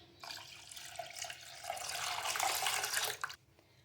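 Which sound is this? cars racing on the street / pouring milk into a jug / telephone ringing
pouring milk into a jug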